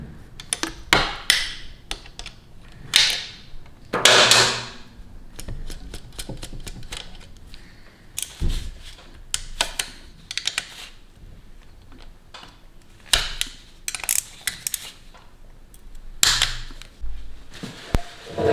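Wrench and ratchet work on size 14 and 12 nuts and bolts of a 2022 Repsol Honda Grom clutch cover, a long run of close, sharp metallic clicks and taps in irregular bursts with no talk.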